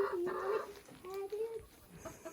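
A rooster in a calm barnyard gives a few throaty clucks and short vocal calls, close and moderately loud, with faint farmyard background and no talk.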